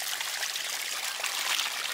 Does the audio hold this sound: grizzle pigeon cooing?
no